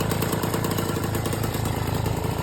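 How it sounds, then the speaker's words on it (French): A Motobécane AV 89 moped's small two-stroke engine runs steadily at close range, a continuous buzzing putter with fast regular firing pulses and no voices over it. "Le moteur tourne."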